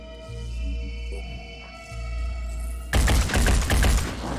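Rapid burst of gunfire erupts near the end in a turn-based tactical video game, Phoenix Point, loud dense shots after a quieter stretch of low game ambience.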